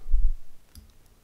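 A computer mouse clicks once in the Fusion 360 CAM program, a short close tap against a quiet room hum.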